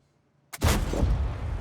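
After a brief silence, a single heavy tank cannon blast in World of Tanks booms out, followed by a rumbling, decaying roar.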